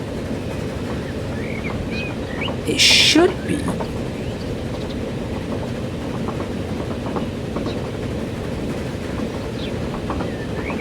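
A locomotive hauling a train in Transport Fever 2, giving a steady low rumble and rolling clatter that runs throughout, with a brief bright screech partway in and a voice speaking briefly over it.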